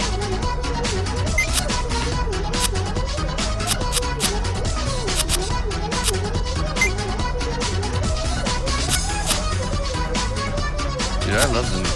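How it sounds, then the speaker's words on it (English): The looping, upbeat chiptune theme of the game Nyan Cat: Lost in Space plays steadily and loud throughout, with quick bright electronic notes over a constant beat and no voices. "I love the Nyan Cat music a lot"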